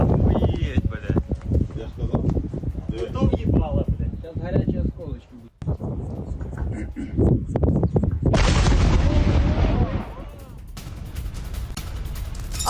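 Series of explosions from a drone attack on a chemical plant in Moscow: loud, dense booms and blasts follow one another, with heavy rumbling and crackling bursts running through the whole stretch, under a news narrator's voice.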